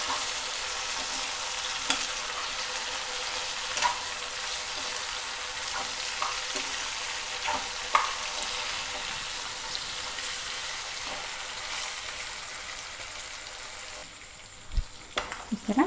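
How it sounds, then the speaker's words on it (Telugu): Chicken frying in a pan for Telugu-style pepper chicken fry, a loud continuous close sizzle with scattered stirring knocks, easing off near the end, with no one talking. "ఇక్కడ బాగా వేగిపోతుంది"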